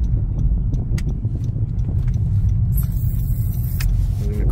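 A truck pulls out of the parking area at a mansion park, its engine a steady low rumble throughout, with a brief higher hiss partway through, close by and loud.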